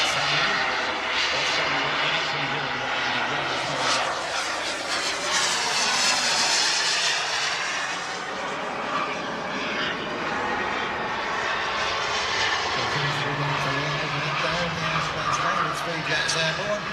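Jet aircraft flying at an airshow, a broad loud engine roar that swells and sweeps in pitch as it passes, heard under people talking throughout.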